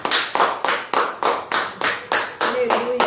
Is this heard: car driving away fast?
no